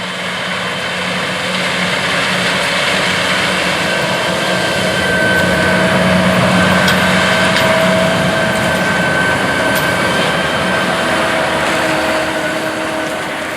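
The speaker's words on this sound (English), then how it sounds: "This Challenger MT740 tractor is operating an Unverferth 1115 X-Treme grain cart." A Challenger MT740 tractor pulls an Unverferth 1115 X-Treme grain cart during corn harvest, its engine a steady, loud drone that holds for about thirteen seconds with no speech.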